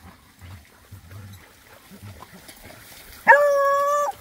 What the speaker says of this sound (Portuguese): Agora chegou o resto do cachorro tudo.